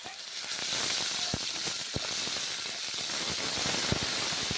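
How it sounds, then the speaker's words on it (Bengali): Whole cumin and ground spices sizzle steadily in hot oil in a pan, a continuous broadband hiss with a few sharp pops and clicks of utensil contact, close and fairly loud throughout. "মশলা ভেজে নিচ্ছি, বেশ ভালো করে ভেজে নিচ্ছি"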